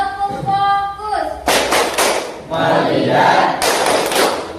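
A school class performs a rhythmic focus clap chant, children's voices chanting together followed by bursts of loud synchronized clapping, close and energetic, with a teacher's voice leading at the start.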